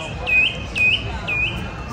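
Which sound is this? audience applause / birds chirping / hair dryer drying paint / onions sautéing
birds chirping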